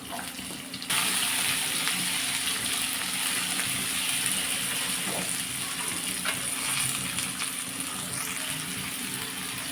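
Tomatoes hit hot oil in a frying pan while a dry fish curry is being cooked, setting off a sudden loud sizzle that settles into a steady, close hiss for several seconds without talk.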